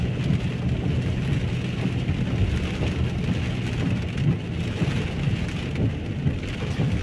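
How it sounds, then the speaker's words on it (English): Heavy rain falls in Lewsey Farm, Luton, UK, a dense, continuous, loud hiss and patter of drops with a low rumble underneath, steady throughout with no voices. "Lots of rain. That's all I can say, just rain."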